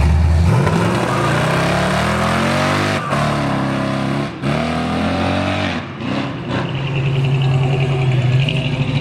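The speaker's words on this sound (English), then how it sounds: "there's cars coming down the road" Loud engines rev and roar past up close, pitch rising and falling as cars speed by on the road, with no talking.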